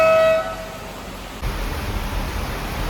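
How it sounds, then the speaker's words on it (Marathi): A funicular train at Shri Malang Gad gives a short tonal horn blast at the start, then a steady rumbling hiss continues. "हॉर्न वाजवला,"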